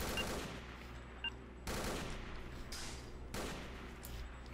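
Gunfire in the S.T.A.L.K.E.R. Misery game, heard as bursts of shots with a few sharp cracks in between, fairly muffled and moderately distant, with no talking.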